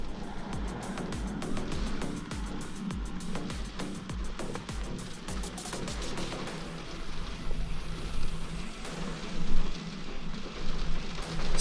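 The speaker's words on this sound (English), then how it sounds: "Oh, it's raining hard. I don't know if you can hear that on the windscreen." Heavy rain drums hard on a car windscreen, a dense close patter with rapid splattering hits and a low rumbling undertone throughout, growing rougher and louder toward the end.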